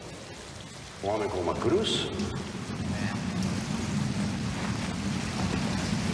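Rain falls steadily in a film scene as a broad hiss that swells after the first second and continues throughout, with someone speaking briefly over it.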